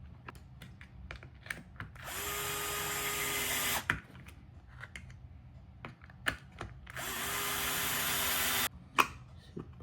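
A power drill countersinks a hole in an RC car chassis part, two sustained whirring bursts of about two seconds each, separated by clicks and small handling knocks.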